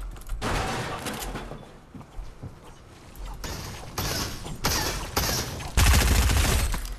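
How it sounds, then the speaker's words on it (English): Gunfire in the Fortnite video game comes in loud, dense bursts of rapid shots separated by quieter gaps, growing heavier and closer toward the end. "What are you shooting at, my man?"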